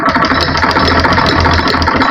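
A sewing machine stitches a shalwar seam, running a second line of stitching over the first. It makes a loud, steady, close-up mechanical whir with a rapid rhythmic chatter throughout, and no one speaks.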